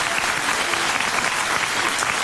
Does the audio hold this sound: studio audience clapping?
yes